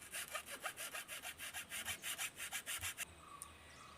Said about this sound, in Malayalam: ഞാൻ കപ്പ തണ്ട് മുറിക്കാൻ ഉപയോഗിക്കുന്നത് ആക്സോ ബ്ലേഡാണ്